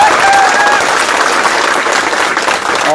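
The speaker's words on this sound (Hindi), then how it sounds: "तालियों की गड़गड़ाहट आपको सुनाई दे रही होगी" A large crowd of home guard personnel applauds loudly and continuously in a dense, sustained roar of clapping.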